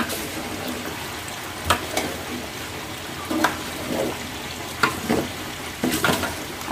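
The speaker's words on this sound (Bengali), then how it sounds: "আবার ছেড়ে ভাজি করে নিচ্ছি" Meat and rice for biryani fry in a pan, giving a steady soft sizzle with periodic louder scraping stirs of the spoon against the pan.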